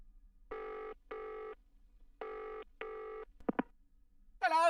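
Old-style telephone bell ringing in the Nick & Willikins adventure video game, two double rings followed by a couple of clicks and a short chirping sound.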